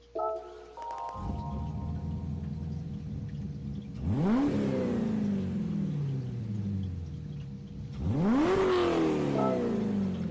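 Engine startups of a 2009 Chevrolet Corvette ZR-1 in Gran Turismo 7, twice: a starter whir rising into a sharp bark and settling to a rumbling idle, with a soft chime-like tone before the first.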